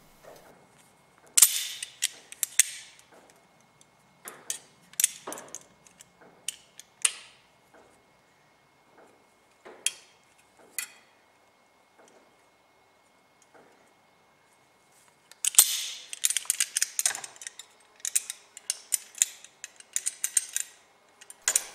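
Steel decoy stand legs being bent with vice grips: sharp metallic creaks, clicks and snaps in scattered bursts, close by, with quiet gaps between and a dense cluster of clatter late on, no talk.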